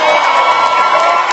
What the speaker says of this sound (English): Senator Bernie Sanders, let me hear you scream.